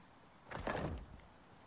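A door is placed while building in Icarus, a single soft sliding thud swelling and fading over about half a second, quiet and alone.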